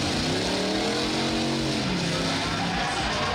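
A demolition derby car's engine revs hard and loud in an arena, rising and falling in pitch as the throttle is pushed, with a continuous roar and other engines droning underneath.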